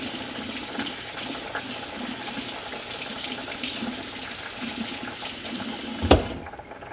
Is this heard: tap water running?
yes